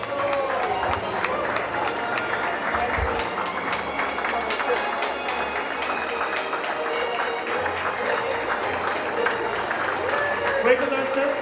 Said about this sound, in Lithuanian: negailėkime aplodismentų